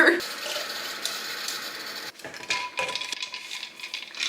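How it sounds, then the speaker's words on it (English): Water runs from a tap with a steady hiss, mixed with light clinks of dishes and a few small clicks nearby. "So I'm gonna go fill this up with water."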